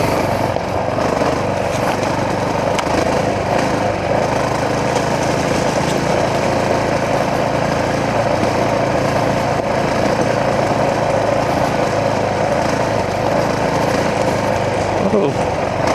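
A motorcycle fitted with a Taco Moto ECU, ridden with a sensitive throttle, giving a constant buzzing engine drone mixed with wind noise throughout. A rider's voice is heard over it at moments.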